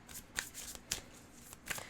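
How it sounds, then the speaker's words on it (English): Tarot cards being shuffled up close: three quick papery riffle bursts spaced across the moment, crisp and fairly soft, with no voices. "I'm gonna shuffle this in because these cards are"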